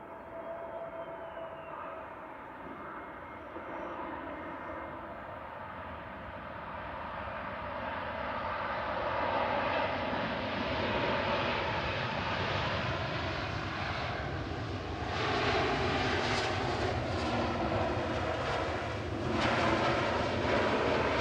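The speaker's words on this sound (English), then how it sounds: "this is just coming over the threshold now. Is EasyJet 2062 from Corfu, a 5-year-old A320 Neo" EasyJet Airbus A320neo, a five-year-old jet arriving from Corfu, crosses the threshold to land at Manchester Airport, its broad engine roar building steadily and growing louder and closer over about twenty seconds, with no talk.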